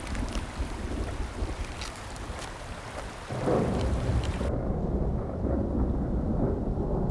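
Heavy rain in the Great Bear Rainforest, a dense steady hiss that grows louder and rougher partway through, joined by deep rumbling like thunder.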